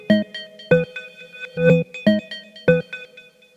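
A reversed Drift synth duplicate layered with the original synth part in Ableton: five punchy, clipped chord stabs in an uneven rhythm, each with a short bright ringing tail, heard alone and clean.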